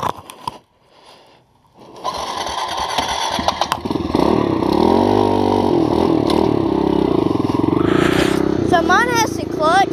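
A Kawasaki KLX 110 dirt bike is kicked over with a few sharp clunks, then catches and settles into a loud, steady single-cylinder idle with a brief rev near the end, close by, while someone talks over it.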